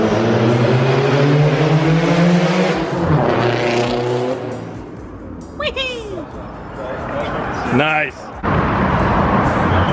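A Subaru STI pulls away and accelerates past, its engine rising loud and close early on, then fading, with people talking nearby and brief chatter near the end.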